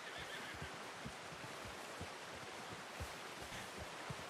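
A horse in the video game Red Dead Redemption II whinnies against a steady rushing ambient background, with faint low thumps scattered throughout and no talking.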